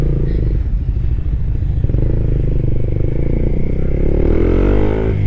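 A Suzuki Raider 150 Fi motorcycle with a programmable ECU and minor issues runs up close, its loud engine idling with a rapid, steady mechanical patter before revving up toward the end.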